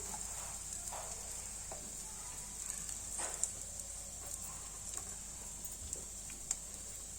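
A cutlet filling with ginger-garlic paste and garam masala is stirred in a pan, giving soft, irregular scraping taps over a steady faint sizzle, quiet and close with no talking.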